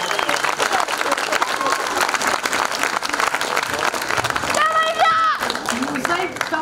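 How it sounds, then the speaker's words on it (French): Audience at a secondary school show performance applauding loudly and continuously, dense clapping from a large crowd with a few cheers and shouts rising near the end. "on vous applaudit tout le monde"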